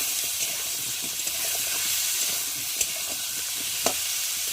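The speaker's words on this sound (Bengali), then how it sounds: "আর এবার এই যে কেটে রাখা আলুগুলোকে পেঁয়াজের সাথে ভালো করে ভেজে নেব।" Cut potatoes fry with onions in a pan, giving a close, steady sizzling hiss with occasional soft scrapes and taps of stirring; no voice is heard.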